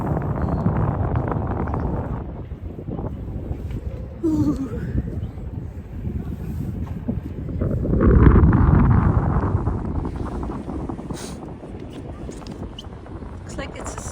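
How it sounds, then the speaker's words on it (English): Strong wind at the Leaning Tower of Pisa buffets the microphone in rumbling gusts, swelling loudly partway through, with a brief exclamation from a voice. "It is getting very windy here."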